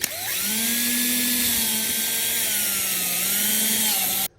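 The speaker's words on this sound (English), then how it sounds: "I like to go in at an angle just so you can get the drill in" A power drill whines at a steady high pitch for several seconds, drilling an angled pilot hole in wood for a screw, close and loud, then stops abruptly.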